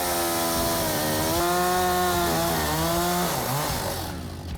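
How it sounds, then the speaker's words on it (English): A chainsaw cuts through a log at a homestead log-home site, its engine droning loud and steady with shifting pitch as the chain bites into the wood, then easing off near the end. "they cut it with the chainsaw"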